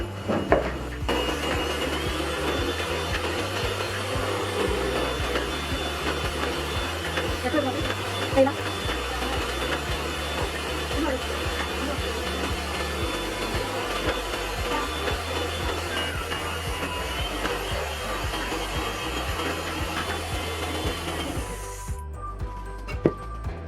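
An electric hand mixer beats eggs and powdered sugar for a soft pineapple cake batter, a steady motor whir running throughout at close range, stopping just before the end.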